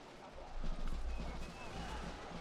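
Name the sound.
hussar cavalry charge hoofbeats in Shogun 2 video game mod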